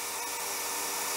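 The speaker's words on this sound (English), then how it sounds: "I'm drilling a little bit for the through hole that needs to go into the other end" Drill cutting a through hole in a machined metal part in a workshop, a steady, even machine hum with a high buzzing edge, continuous and moderate in level with no talk.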